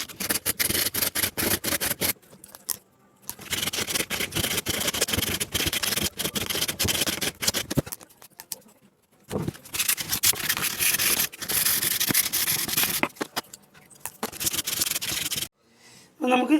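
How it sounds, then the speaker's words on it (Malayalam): Continuous, loud abrasive rubbing smooths a coconut shell craft piece, steady gritty strokes close up with a few short pauses between bursts. "അപ്പോൾ നമുക്ക് റബ്ബ് ചെയ്തെടുക്കാം."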